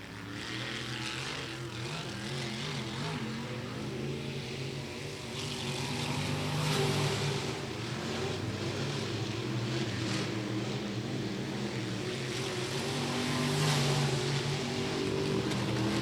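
Race cars lapping Atomic Speedway during local-class qualifying, a continuous, steady engine drone that swells slightly as cars pass, heard from a distance with no talking.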